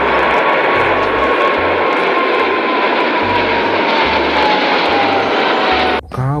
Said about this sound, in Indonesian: ini ada pesawat terbang penumpang